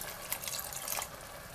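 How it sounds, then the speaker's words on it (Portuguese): Water is poured a little at a time into a pot of beans for homemade feijão, giving a close, soft splashing and gurgling that lasts a second or so and then fades to quiet, with no talking. "Agora nós vamos acrescentar a água."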